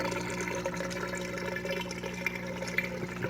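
Water trickles and gurgles steadily through the weir and U-tube siphon of an aquarium hang-on-back overflow, a close, continuous flow with small splashes and no talk.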